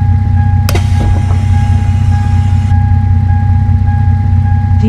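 A bus door in an Indian mobile bus driving game opens with a sharp mechanical click, followed by a brief pneumatic hiss over a steady, loud engine hum and a constant electronic tone.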